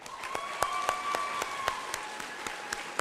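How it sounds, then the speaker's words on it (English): Scattered applause for graduates at a high school graduation ceremony, sparse distinct claps with a faint tonal hum underneath, moderately quiet and steady. "let's have one more big round of applause for our graduates"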